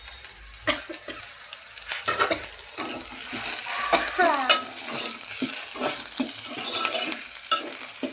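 Curry leaves hit hot oil at the start of a chicken curry, producing a loud, continuous crackling sizzle with bursts of popping and occasional utensil clinks against the pan, no voices.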